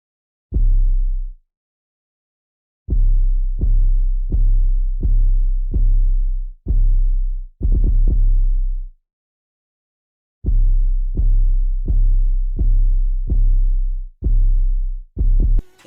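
Deep 808 bass drum notes thump in an electronic beat: one opening hit, then quick runs of short booms with a longer sustained note among them, separated by brief silences.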